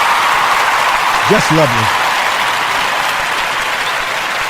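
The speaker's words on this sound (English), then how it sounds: "Let me give her a clap again for coming over here again." An audience claps for a powerful lawyer on a talk show, giving a steady, dense wash of applause that fills the whole stretch while someone speaks briefly over it.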